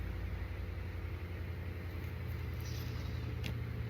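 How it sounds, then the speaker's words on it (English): A car engine idles outside with a steady low rumble, faint and continuous, heard through a room. "I don't want to talk over that engine, y'all. I just want him to go."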